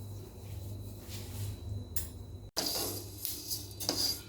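Fennel seeds dry-roast in a pan, giving faint scraping and light clinking as they are stirred, with a brief break partway through and no talking.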